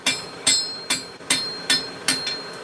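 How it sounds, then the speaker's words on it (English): A hammer taps repeatedly on a piece of scaled-up steel being prepared for a two-piece forge weld, with six evenly spaced, sharp ringing metallic strikes close by, each decaying briefly before the next. "I'm just going to give it a tap to get some of that nasty scale off."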